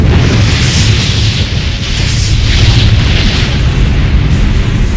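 Sci-fi audio drama battle as the spaceship Valia explodes: a loud, sustained roaring blast with rumbling low booms that fills the whole stretch without letup, no voices over it.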